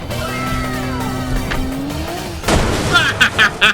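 A video game car with a 4-speed automatic gearbox drifts around a corner: a sustained, wavering tyre screech over engine drone, then a burst of louder scrubbing and skidding bumps near the end.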